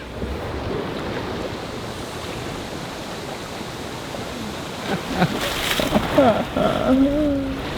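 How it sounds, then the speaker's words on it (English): Rough waves breaking on the lee shore of Lake Ohrid, a constant loud wash of surf mixed with wind buffeting the microphone, with a voice speaking briefly toward the end. "right now we are on the lee shore, which is like the roughest shoreline on the lake at this particular moment"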